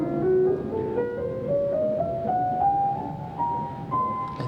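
A scale tuned to 13 equal divisions of the tritave climbs steadily note by note on a sustained, pitched instrument, each step rising slightly higher in a smooth ascending run with no talking.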